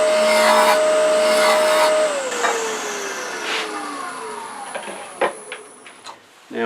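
A wood lathe rounding off a wooden mouse blank, with a steady high whine and tonal hum that drops in pitch and fades, then gives way to scattered scraping bursts and clicks as the spin winds down.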